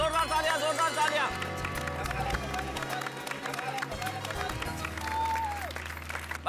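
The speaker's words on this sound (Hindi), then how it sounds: "एक बार जोरदार तालियां, जोरदार तालियां, जोरदार तालियां" A studio audience claps loudly for a performer on a family comedy show's children's dance event, with music and a talking voice running over the continuous applause.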